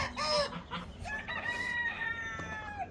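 Turkeys and other poultry in a farm coop, calling close by in repeated bursts of crowing, clucking and gobbling-like cries, one overlapping another with barnyard noise underneath.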